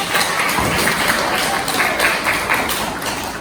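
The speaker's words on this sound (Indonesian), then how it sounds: "Beri tepuk tangan dulu, Pak." Classmates in a high school classroom applaud as a group comes forward to present, a steady, dense patter of clapping that holds evenly at moderate loudness throughout.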